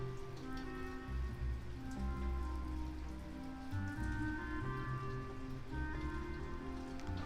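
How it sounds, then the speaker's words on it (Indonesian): Steady rain falls continuously and faintly in the background, a soft even patter behind a tonal game soundtrack, with no talking. "Ada suara hujan."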